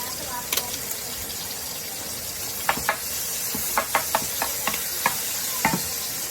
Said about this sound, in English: Don't be afraid to stir the bacon before they're burning one side.